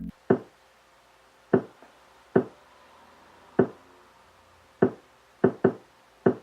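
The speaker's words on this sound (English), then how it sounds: "So for the chorus, this is the kick pattern." Eight punchy kick drum hits in an uneven chorus pattern, dry and close, with quiet gaps between and a quick double near the end.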